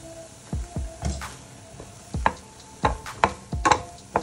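Vegetables cooking on a very low flame in a pan: a soft, steady sizzle under scattered light taps and scrapes of stirring, close and quiet, with no talking.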